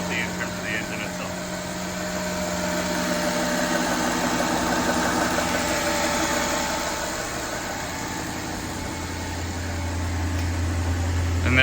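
A 2012 Maserati Quattroporte S engine idles steadily after a cold start with a low, even hum and slight rise and fall in level, running on its own without talk.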